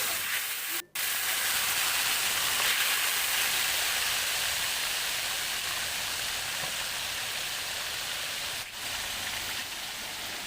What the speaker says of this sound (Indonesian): Nah ini aku lanjut goreng yang kloter keduanya mam.